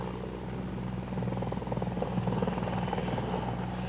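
A CH-54 heavy-lift helicopter taking off, its rotor throb and turbine drone loud and steady, swelling slightly as the craft lifts, with no voices.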